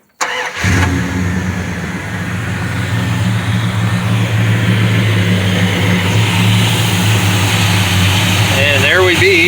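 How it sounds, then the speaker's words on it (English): Car engine with a rebuilt Thermoquad carburetor starts and then revs and holds a steady, rising roar, close and loud, with a faint voice near the end. "when I floor it manually by hand, I should hear it go boop with no cutouts or hesitations or backfires"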